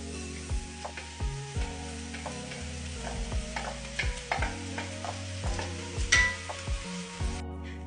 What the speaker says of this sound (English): And pop in the freshly washed lentils.